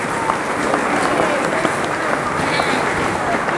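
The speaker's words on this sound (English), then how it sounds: "So a big round of applause to them, and to John Moynihan," Loud, dense applause from a large audience, continuous and even throughout, with a faint murmur of the crowd beneath the clapping.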